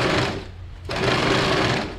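A sewing machine stitches a blouse band to the inner fabric along its edge, running in two close bursts with a brief slowdown between them.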